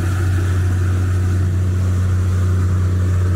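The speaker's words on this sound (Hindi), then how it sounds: "थोड़ा गाड़ी का शोर है" Road traffic noise: a steady, loud engine hum with a low drone, like vehicles idling or moving close by, continuous with no talk.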